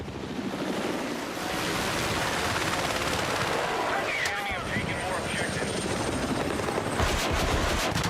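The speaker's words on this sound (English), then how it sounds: "Good spot on that helo from downtown." A helicopter in the Battlefield 6 video game makes a steady, whirring rotor drone, with gunfire and battle noise layered around it.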